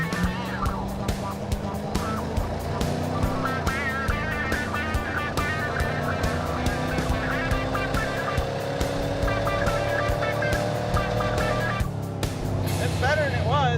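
The Super Camaro's engine runs rough even with its new carburetor, a loud, uneven idle with irregular pulses and shifting tones, while someone talks over it.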